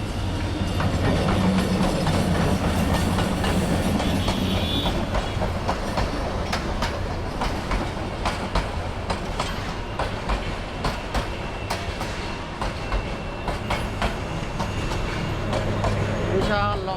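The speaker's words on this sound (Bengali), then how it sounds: "বিশাল লম্বা ট্রেন, শেষই হচ্ছে না। চট্টগ্রাম থেকে আসছে এই ট্রেনটি, সুবর্ণ এক্সপ্রেস।" A long Subarna Express passenger train from Chittagong rolls past close by on a Dhaka line, its wheels beating a loud, steady clickety-clack as carriage after carriage goes by, with a voice talking over it.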